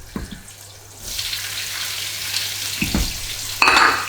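Prawns fry in a pan with a strong hiss that swells after a couple of low thumps, then gets louder as they are stirred, with scraping knocks from the utensil.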